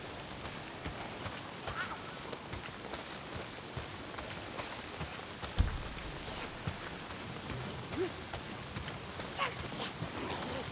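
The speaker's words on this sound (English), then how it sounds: "If it's not the freaks, it's rain. Why is it always raining?" Steady rainfall in the video game Days Gone, a soft continuous hiss with scattered drop patter and occasional small thuds, faint and even throughout.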